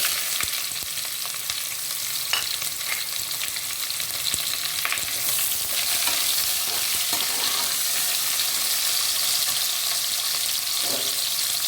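Steady, loud sizzling of chopped onions frying in hot oil with mustard seeds, with occasional stirring clinks and crackles throughout.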